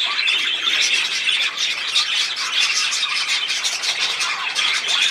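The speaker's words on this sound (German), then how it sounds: "Ich habe einen prominenten Vogel hier." A pet bird, a tame VIP perched on a cup, squawks and chirps continuously at close range in loud, harsh, rapid bursts with no pauses.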